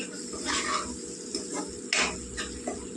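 A utensil clinks and scrapes against a pan while egg, onion and garlic fry, with a few sharp metallic knocks among softer stirring strokes and a low sizzle, close and moderately loud.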